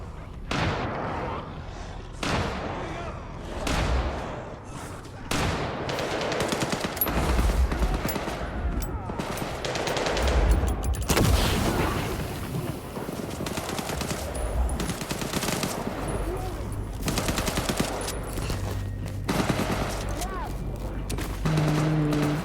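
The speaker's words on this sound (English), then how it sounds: "Why are those grenade sounds so vivid?" Rapid gunfire bursts and booming grenade explosions in a video game, loud and dense throughout, with repeated heavy blasts over continuous shooting and some talk mixed in.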